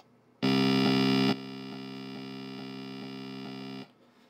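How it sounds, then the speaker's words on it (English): A Game Boy running LSDJ music software bursts into a harsh, buzzy sustained tone, very loud at first, then dropping to a steadier held note before cutting off, with faint static around it. "If you press play or start, you will hear the Game Boy burst into life."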